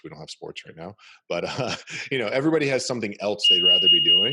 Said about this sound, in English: Oh, that's my alarm. Hold on.